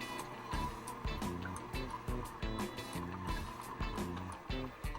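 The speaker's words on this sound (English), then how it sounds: "Let's do a little reverse sometimes just to help clear out any pulp inside." An Omega VSJ843 slow juicer runs in reverse to clear pulp, making a low, rhythmic mechanical churning with repeated grinding pulses and some liquid trickle, steady and close.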